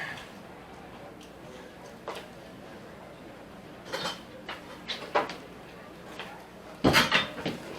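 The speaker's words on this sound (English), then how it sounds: "Why won't this door open?" A door is tried and rattled but won't open during a live comedy show, with a series of scattered knocks and clatters that build to a louder burst of rattling near the end.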